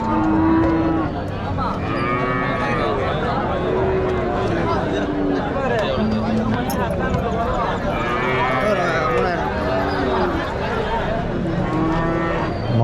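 Jersey calves and cattle mooing at the Uthangarai cattle market, several loud, drawn-out moos overlapping one another across a busy crowded background with hoof clatter and people talking.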